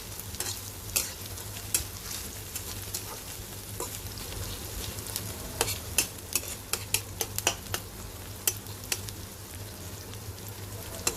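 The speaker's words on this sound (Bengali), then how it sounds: "পেঁয়াজগুলো ভাজা হতে থাকুক।" Onions fry in oil with whole chillies for rui fish bhuna, a soft, steady sizzle under a run of sharp spatula clicks and scrapes that grows busier toward the end, with no speech.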